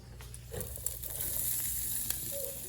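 Drained sausage sizzling in a hot pan, a steady, fairly faint hiss with a few small pops and scrapes, no voices.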